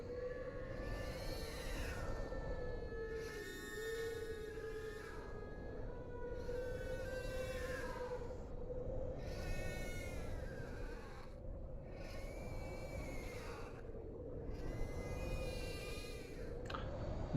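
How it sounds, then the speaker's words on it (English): A cat in a video game gives drawn-out, wavering yowls, repeated in six regular bursts over a steady low droning hum. "That's a cat"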